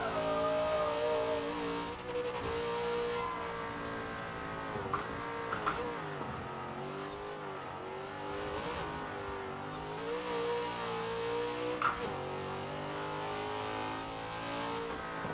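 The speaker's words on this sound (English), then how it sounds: "you can kind of hear the engine speed pick up a little bit when you're spinning tires" A vintage American muscle car engine in Forza Horizon 4 revs and drones through a race, pitch rising and falling with gear changes and wheelspin, loud and continuous with faint tire noise.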